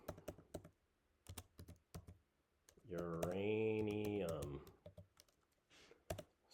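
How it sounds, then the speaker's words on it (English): Quick bursts of computer keyboard typing, clustered clicks near the mic, with a brief spoken word and a stretch of tonal sound in the middle. "Sorry for the typing."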